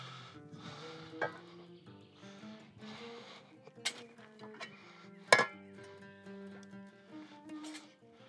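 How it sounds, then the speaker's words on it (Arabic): Water poured onto about 3 kg of meat in a hot pot over a wood fire sets off a quiet sizzle, with a few sharp metallic clinks and brief voices. "الحين بصب الماي"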